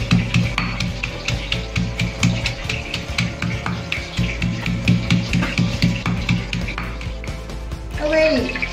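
Garlic is pounded by hand for homemade chili sauce, producing steady rhythmic thuds and scraping knocks about twice a second, close and fairly loud, with a short voice near the end.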